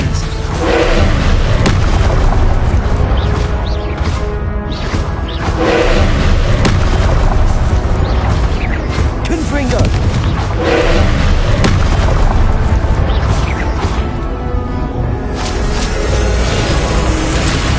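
Confringo fire spells in Hogwarts Legacy blast in repeated loud booming explosions, one after another over a dense, continuous rumble of combat.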